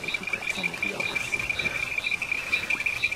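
Reed frogs call at night in a steady, shrill, metallic chorus that runs unbroken in the background, joined by faint scattered rustles.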